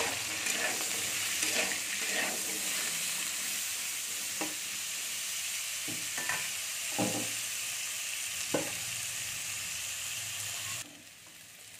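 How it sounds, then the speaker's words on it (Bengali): Potatoes fry in hot oil in a heated kadai, a constant close sizzle with occasional stirring knocks and scrapes, no talk heard. "আমি আলুগুলোকে একটু ভেজে নেব"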